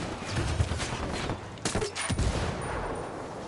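Gunfire in Ghost Recon Wildlands pops in several bursts, a few close sharp shots mid-way among scattered quieter reports, over a steady outdoor rumble.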